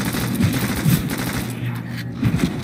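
Rapid gunfire from a pistol in Call of Duty: World at War, a dense burst of shots that keeps up steadily with a few stronger bursts, loud and close in the game mix.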